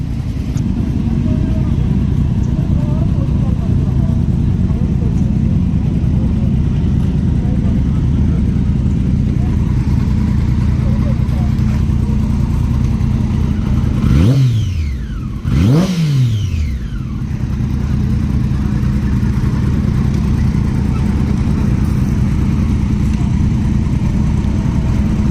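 A Honda CBR Fireblade superbike fitted with an aftermarket exhaust runs loud and steady, with two quick revs rising and falling sharply near the middle.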